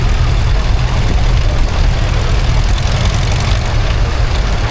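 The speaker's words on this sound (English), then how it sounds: "Diesel engine. Very popular tractor" A 1950s diesel tractor engine runs steadily at a tractor parade at Tinkers Park steam rally, with a loud, low rumble and no variation in pace.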